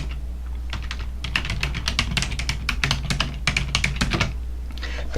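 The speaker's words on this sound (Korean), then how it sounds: "여기서 타이핑 하시면" Typing on a computer keyboard while entering an account name in accounting software, a fast, irregular run of close key clicks under a steady low hum, with no talk.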